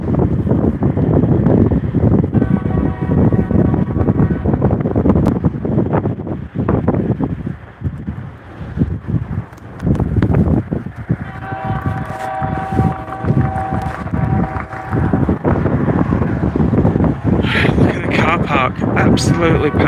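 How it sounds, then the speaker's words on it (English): Strong wind buffets a microphone outdoors on a busy street, a loud rumbling roar that fluctuates throughout with a voice talking underneath. "Very windy, so I'm going to try not to speak too much because you won't be able to hear me."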